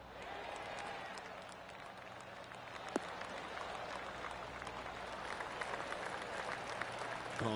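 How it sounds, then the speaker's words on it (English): A video game crowd in PGA Tour 2K23 gives a polite golf clap, soft steady applause from many hands throughout, fairly quiet and slightly distant. "Oh, golf clap."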